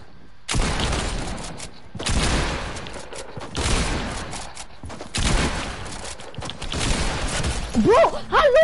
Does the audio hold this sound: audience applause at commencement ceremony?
no